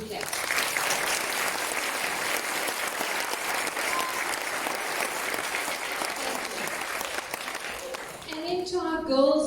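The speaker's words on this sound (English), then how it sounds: "Let's give our teachers a big, big clap." Grandparents day school assembly audience clapping for the teachers, a dense sustained round of applause from the crowd that fades near the end as a voice begins speaking.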